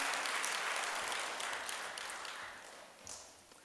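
Congregation applause in a church service for the association president, sustained clapping that holds steady and then gradually thins and fades toward the end, heard alone.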